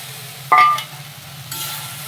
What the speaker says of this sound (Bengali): আলুটাকে দিয়েও একটু কষিয়ে নিচ্ছি।